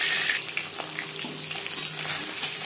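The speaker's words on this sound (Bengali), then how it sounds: "একটা সাইড ভাজা হয়ে গেলে অপর সাইডটা উল্টে দেবো।" Fish pieces, including fish heads, frying in hot oil in a pan for a potato fish curry, a steady close sizzle with faint crackles and no talk.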